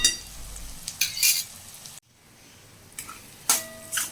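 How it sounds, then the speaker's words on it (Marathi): Onion fries in a pan with wet coconut, garlic and chili paste, soft sizzling broken by bursts of scraping and stirring, a brief near-silent gap in the middle, then the stirring clatter and sizzle return. "आपण कांदा फ्राय करत आहोत."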